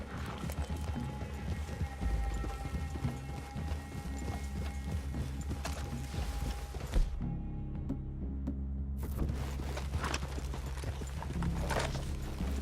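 Horses in Red Dead Redemption 2 clip-clopping steadily over the ground in a clearing, the hoofbeats close and continuous under a low ambient bed, with a short near-silent gap midway before the hooves resume.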